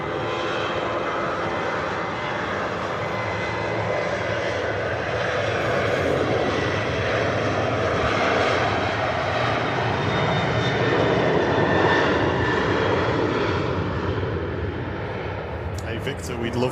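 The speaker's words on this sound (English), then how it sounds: "loads of thrust being used here by the Ryanair" A Ryanair jet airliner at Manchester Airport runs its engines at high thrust, a loud, steady, broadband roar lasting throughout and swelling slightly midway, with voices faintly underneath.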